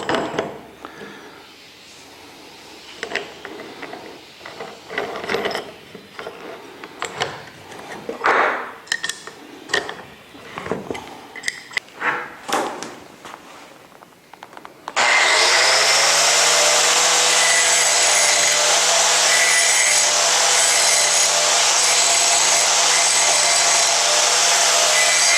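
An angle grinder working metal for a dining table starts after a stretch of irregular knocks and handling noise, then runs at a loud, steady, high whine to the end.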